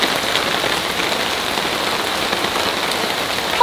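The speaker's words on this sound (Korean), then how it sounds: "여러분, 비 진짜 많이 와요." Heavy rain falls in a dense, steady hiss of drops striking surfaces, close and unbroken, with no talking.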